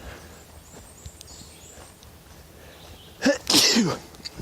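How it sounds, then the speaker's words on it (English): A single loud sneeze bursts out near the end after a few seconds of quiet background on the Appalachian Trail, followed by a short breathy trailing sound. "I'm about to sneeze."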